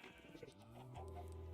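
A single wavering sheep bleat in Minecraft, from a pen of bred and dyed sheep, faint and drawn out, with a low sustained tone.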